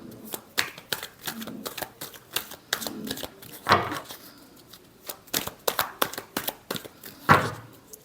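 Tarot cards being shuffled by hand in repeated bursts of crisp riffling and flicking, close and fairly loud, with brief pauses between shuffles and no talk.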